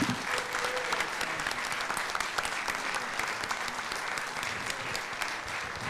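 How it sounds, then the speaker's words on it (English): Audience applause for panelists at a 1998 Paul Robeson centennial celebration at the San Francisco Public Library, steady dense clapping filling the room from start to finish without a break. "I think we should give our panelists and the other participants here a great round of applause."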